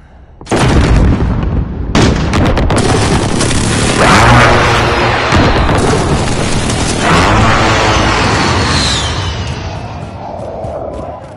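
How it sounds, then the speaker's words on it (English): Airstrike explosions in a PS4 war video game: loud, rumbling blasts that roll into one another almost continuously for several seconds, then fade out. "Be advised airstrike inbound."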